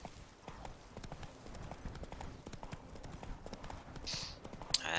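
Steady clip-clop of the horse Roach's hooves at a run in The Witcher 3, a fast, even rhythm of fairly close hoofbeats over a low outdoor ambience, with faint voice-like sounds now and then.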